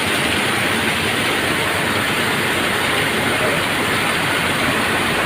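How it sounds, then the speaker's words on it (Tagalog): A garbage truck drives past through a flood-affected street in Montalban, Rizal, giving a loud, steady engine rumble and broadband road noise that holds unbroken for the whole stretch, with no voices. "Yan, truck ng basura."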